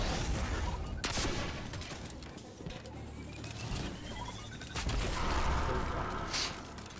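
Delayed-detonation rockets bursting in Destiny 2 during a Stasis Hunter PvE fight, a scattered run of crackling pops and sharp bangs over rumbling game noise, with a louder cluster near the end.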